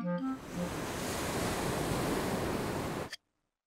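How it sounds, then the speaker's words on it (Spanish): Cartoon sea-wave effect heard through a seashell held to the ear: a steady, soft rushing wash of surf that swells briefly then cuts off abruptly, with a short bright voice at the very start. "¡Escucho el mar!"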